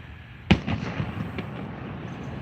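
Canada Day fireworks at Big Bay Point in Innisfil, Ontario: one sharp, loud bang, then a scatter of softer crackles and pops over a steady outdoor rumble, heard from a distance.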